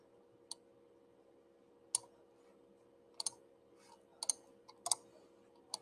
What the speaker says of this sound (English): Let's click it.